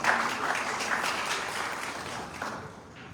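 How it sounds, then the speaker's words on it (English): Soft, fairly distant applause from a forum audience in a conference hall, a steady patter of many hands that stays low and gradually tapers over about three seconds, with no one speaking. "a round of applause, please"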